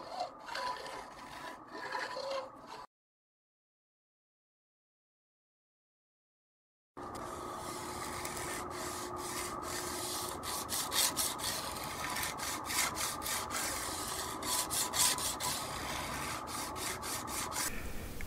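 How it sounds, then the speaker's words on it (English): Sandpaper in 320 and 400 grit rasping over the fret corners of a Rich & Taylor banjo during a partial refret, quick rhythmic scratchy strokes up close, cut by a few seconds of silence before resuming steadily. "Here we're finishing up with some 320 and some 400 grit sandpaper on these corners of these frets."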